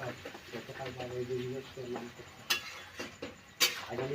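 Chicken cooked with poppy seeds is stirred in an oily pan at an outdoor rainy-day feast, a faint scrape and sizzle under nearby chatter with two sharp metallic clinks.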